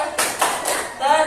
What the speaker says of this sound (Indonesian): Kita beri tepuk tangan ke kelompok 1. Sekali tepuk boboiboy.